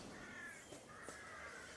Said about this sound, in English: you hear a caw-caw, caw-caw off in the distance